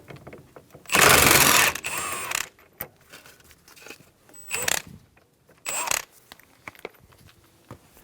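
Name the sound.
ratchet with 22mm socket removing steering wheel nut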